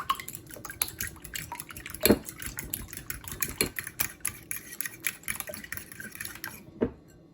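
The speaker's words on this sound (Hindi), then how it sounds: "अंडे हमारे अच्छे से फेंट गए हैं।" Eggs beaten with milk, a pinch of red chili powder and salt in a bowl, heard as a run of quick light clinks and taps of a utensil against the dish with soft liquid sloshing.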